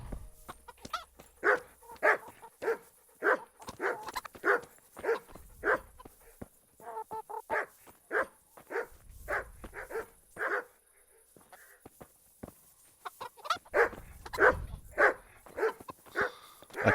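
A dog in the video game Kingdom Come: Deliverance barks repeatedly in quick bursts at a moderate distance, with a few short pauses between runs of barks.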